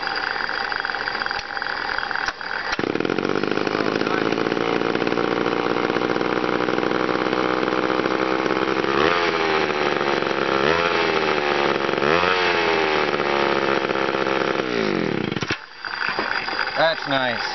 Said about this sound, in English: Well, I think I've got myself a chainsaw.